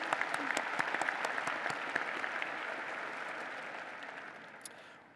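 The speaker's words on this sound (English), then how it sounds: "One more round of applause." Broad applause from the audience at Virginia Tech's Fall 2016 university commencement ceremony, with distinct nearby claps over a dense crowd wash that gradually fades toward the end.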